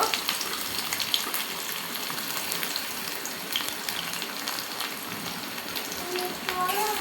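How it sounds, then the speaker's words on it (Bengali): Onions sizzle in hot oil in a pan, a steady broadband crackle with scattered pops, being fried brown for a small-fish and drumstick curry, continuous and fairly close throughout. "এখন আমি পেঁয়াজটা দিয়ে ভেজে নেব, আগে ব্রাউন কালার করে নেব"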